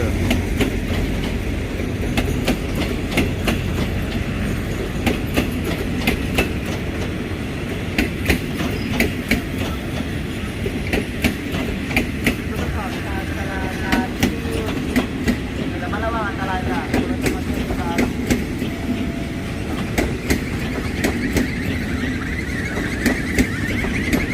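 A train on the Kaeng Khoi–Bangkok line rolls toward Bang Sue station with a steady, loud rumble and continuous rhythmic clickety-clack of wheels over rail joints, heard close throughout with some background voices.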